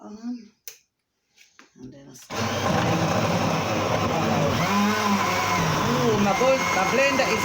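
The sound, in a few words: blender running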